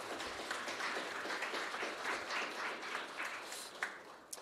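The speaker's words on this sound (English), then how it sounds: "Can we give them one more round of applause?" A crowd at a startup demo day applauds the startups on stage with a soft, fairly distant, continuous clapping that holds steady, then tapers with a few sharper claps near the end.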